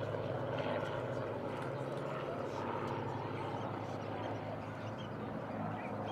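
A Spitfire's propeller engine drones steadily overhead at an airshow, a constant rumbling roar heard from a distance.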